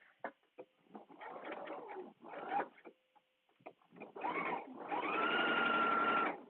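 A sewing machine stitches a dress in several stop-start bursts, the motor whirring up close between short pauses, with no voices.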